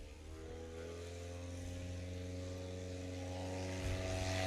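A MOAC STOL propeller airplane flies at the National STOL Championships in Sulphur Springs, Texas, its engine drone steady and fairly distant, slowly growing a little louder.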